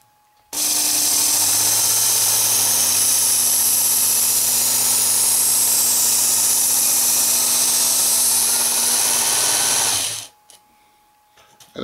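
A Work Sharp Ken Onion Edition belt knife sharpener runs close and loud as one steady motor-and-belt whir for about ten seconds before shutting off, with no one talking.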